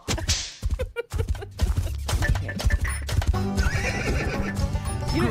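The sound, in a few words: horse neighing and hooves clip-clopping sound effect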